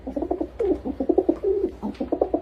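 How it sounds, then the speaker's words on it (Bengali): Pigeons coo in quick rhythmic bursts of soft, throaty calls repeated back to back, close and steady throughout with no talking. "সে পায়রার ভাষায় বক বক কুম করে ছেলেকে ভর্ৎসনা করতে লাগল।"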